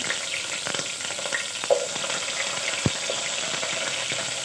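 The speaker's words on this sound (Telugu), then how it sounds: "టమాటా ముక్కలు కట్ చేసుకున్నటువన్నీ వేసేస్తాను వేసేస్తున్నాను కరివేపాకు కూడా వేసుకుంటాను" Tomato pieces and curry leaves sizzle and crackle steadily in a hot pan for sambar, a close, constant frying hiss with occasional stirring scrapes.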